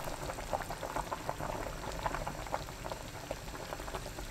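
Chicken-and-scallion soup with beaten egg poured in boils hard on high heat, a steady close bubbling and popping with irregular louder bursts, no voices.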